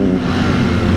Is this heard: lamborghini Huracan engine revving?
yes